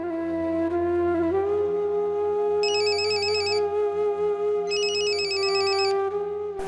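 A home telephone rings in a domestic drama scene, a steady electronic tone with two bursts of warbling trill, clear and alone with no talk.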